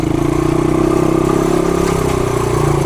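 An old motorcycle, idle for some 40 years, runs steadily while being ridden, its loud close engine note holding a continuous throbbing drone with slight rises in pitch throughout.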